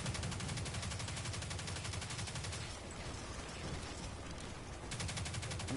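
Rapid automatic gunfire in Destiny 2, a dense continuous stream of shots, loud and steady with a brief lull midway.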